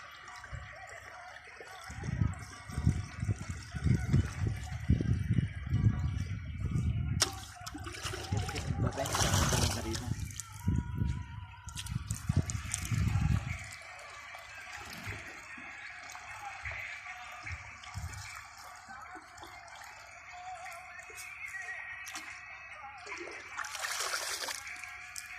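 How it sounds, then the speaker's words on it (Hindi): Water is poured by hand into a sprayer tank, giving splashing and trickling bursts during the first fourteen seconds, followed by quieter sloshing with people talking nearby. "ये टैंकी में पानी भरा जा रहा है, मैनुअल तरीके से पानी को भर रहे हैं"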